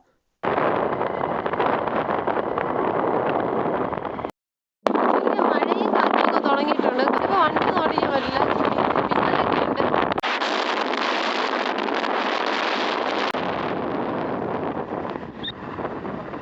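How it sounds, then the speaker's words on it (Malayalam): Loud, steady roar of strong wind buffeting the microphone in the red sand desert of Tamil Nadu, continuous throughout with one brief dropout near the start; no voices. "ബൈക്ക് പോലും ഓടിക്കാൻ പറ്റുന്നുണ്ടായിരുന്നില്ല അത്രയ്ക്ക് കാറ്റായിരുന്നു"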